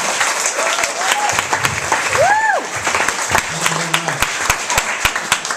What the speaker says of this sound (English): let's bring him up with a nice warm applause for Bob Slade